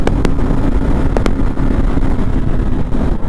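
KTM Duke 390 motorcycle accelerating in fourth gear, a loud continuous engine drone heavily buffeted by wind rush, with a few sharp clicks early on.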